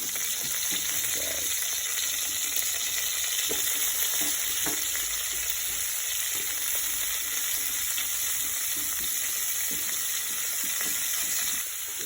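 Squash in red sauce fries in a pan with a steady close sizzle, broken by scraping and clacking as it is stirred now and then.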